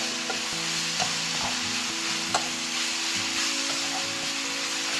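Onions sautéing with salt in a pan for egg masala, a steady close sizzle with stirring scrapes and occasional taps running continuously, no voices.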